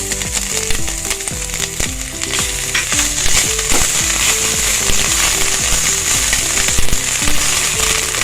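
Minced ginger and garlic fry in hot oil over high heat, giving a loud, continuous crackling sizzle with sharp spattering pops and scraping stirs close by, with no voices.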